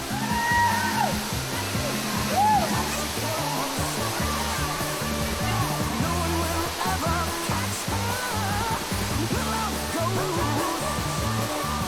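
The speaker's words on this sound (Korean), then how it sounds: "오수미 협곡에서 만날 수 있는 8개의 작은 폭포다." Small waterfalls in the Osumi canyon, Albania, pour with a steady, broad rushing hiss that never lets up, while music with low rhythmic tones plays over the water noise.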